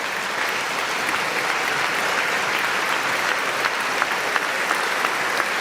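Sustained standing ovation in the US Congress chamber during a presidential address, a broad even wash of many hands clapping, steady and full with occasional sharper claps near the end.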